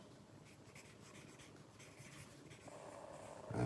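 Pencil shading a rough drawing on paper: a close, steady scratchy rasp of graphite strokes that carries on without pause and grows a little louder and rougher near the end, with no voices.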